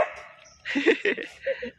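A dog by a river barks several times in quick, uneven bursts, close and loud, with a short whimpering yip in between.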